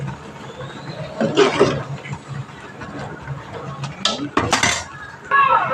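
A ladle clinks and scrapes against a cooking pot while curry leaf kuzhambu is stirred, in a few uneven bursts of metallic knocks with someone speaking over the quiet gaps.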